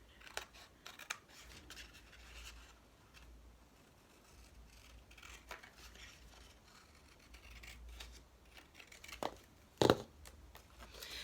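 Scissors snip through folded card during notebook making, giving a series of soft, close cutting and rustling strokes, with one sharper crunch near the end and no talking.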